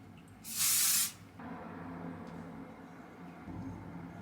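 A single short blast of aerosol hairspray, strong-hold formula, hisses loudly onto hair for about half a second, followed by quiet room noise.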